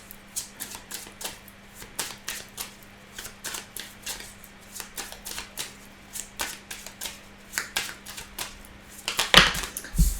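Oracle cards are shuffled and laid out on a table in quick soft flicks and taps, a dense irregular run of light card slaps close up, ending in a brief louder rustle.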